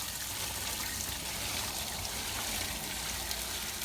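Water being poured off a settled clay mixture, a steady, faint, continuous trickling pour with no talk.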